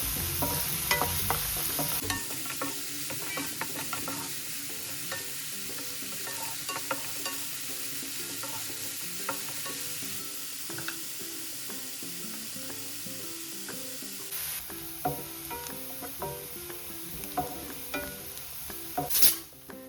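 Onions sizzle steadily as they fry in a pan for padavalakai kootu, with repeated scraping stirs and light clinks of a spoon against metal, close and continuous with no talk.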